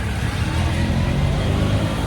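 A car's engine hums steadily from inside the vehicle, a dense low rumble with constant road noise and no clear gear changes or speech.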